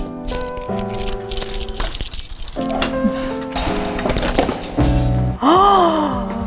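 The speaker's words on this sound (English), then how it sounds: "Give me keys, please." A bunch of keys jangles and clinks close by in bursts, with metallic rattling and ringing tones.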